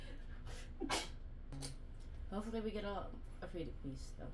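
A single sneeze bursts out beside a person talking, with more chatter following in a busy space before a concert.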